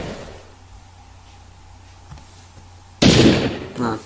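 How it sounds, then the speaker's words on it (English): A sudden loud explosion blast erupts in a tank battle video game after quiet ambient background, followed by a shorter secondary burst. "Not a big enough explosion, I need a bigger one."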